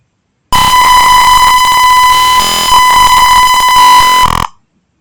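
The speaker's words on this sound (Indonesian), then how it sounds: "maka buzzer akan berbunyi" A gas detector prototype's electronic buzzer sounds one continuous, loud, shrill tone for about four seconds, then cuts off sharply, with silence before and after.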